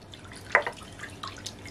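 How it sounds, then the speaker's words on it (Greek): A small splash and a few drips of water go into a cooking pot, quiet and close, over a low steady hum, with no talking. "θα βάλω και ένα ποτηράκι του κρασιού νερό"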